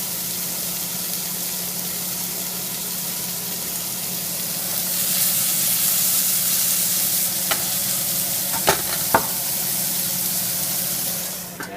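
Squash with ground coriander seed and thyme cooking in a pan, a steady sizzle and frying hiss throughout that grows slightly louder midway, with a few sharp clicks and taps of utensils near the end.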